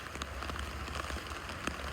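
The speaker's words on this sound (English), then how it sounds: "Look at the rain, man. Look at that, y'all. Coming down out here." Heavy torrential rain pours down outdoors in a steady, dense hiss of drops hitting surfaces, continuous and fairly close, with no talking.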